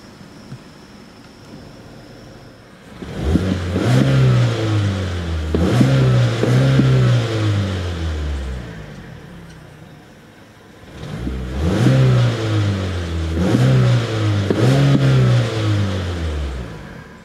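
A stationary 2015 Mazda3i Grand Touring with a six-speed manual is revved in two bursts against a 4,000 RPM rev limiter. Each burst is a series of rising and falling engine pulls, loud and close, with a quiet idle hum between them.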